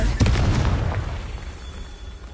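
Fiery Confringo spell blast from the Hogwarts Legacy video game: a loud burst at the start with a crackling boom that slowly decays over about two seconds, no voices.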